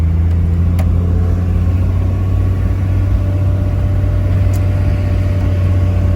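A Toyota HJ61 put into drive and pulling away, its engine running with a steady low drone and hum at close range, fairly loud throughout with no talk.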